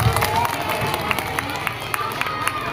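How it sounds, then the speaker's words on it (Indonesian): Group applause and cheering at a Redhaton gathering, a short burst of claps and voices from a room full of people, moderately loud with sharp hand claps standing out over a busy crowd wash. "Tepuk tangan untuk Tangku."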